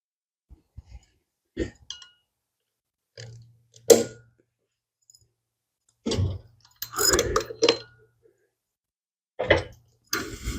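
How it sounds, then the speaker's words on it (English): A 3/8 ratchet works car bolts during a GT40 clutch install, producing short bursts of close clicking and metallic clinks separated by quiet gaps. "I'm just going to start out with my 3/8 ratchet."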